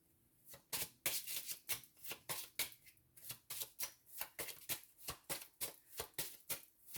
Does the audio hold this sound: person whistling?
no